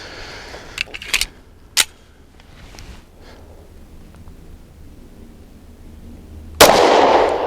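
Tisas Night Stalker 1911 pistol firing 155 grain Alchemist frangible rounds: a few sharp cracks early on, a quiet stretch of faint handling noise, then a loud blast close by at the end.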